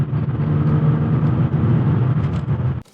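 A BMW E36 323i on the move, its engine droning loud and steady from inside the car for about three seconds before cutting off abruptly.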